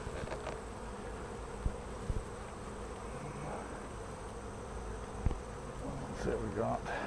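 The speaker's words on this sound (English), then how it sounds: "Plenty of bees" Honey bees drone steadily inside an open hive, a dense close buzzing with a few brief knocks and handling sounds over it.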